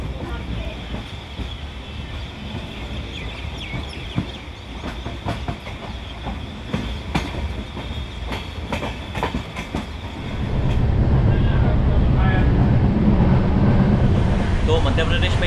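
A passenger train runs in the evening after pulling out of Khandwa Junction, with rhythmic clickety-clack and wind buffeting; the rumble swells louder and denser partway through.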